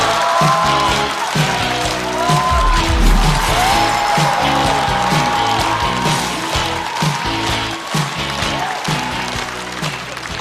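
A studio audience applauds a stand-up comedian walking onstage at a comedy competition show, the clapping sustained throughout and mixed with loud walk-on music.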